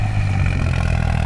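A New Holland 5620 4x4 tractor engine runs steadily at a field being prepared with a cultivator, a loud, continuous low rumble with mechanical clatter and no talk.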